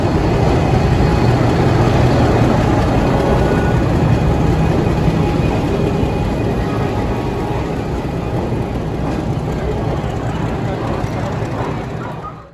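The Vibhuti Express at Howrah station gives off a loud, steady rumble that holds level for the whole stretch and fades slightly at the end, with faint voices in the background.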